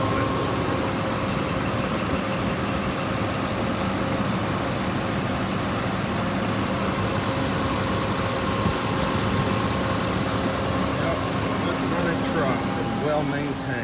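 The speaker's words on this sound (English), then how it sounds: "this whole V8 runs really good to have the miles it has on it" A 2005 Nissan Armada SE's V8 engine idles steadily with a smooth, even low hum, heard close and continuous, while a person talks over it.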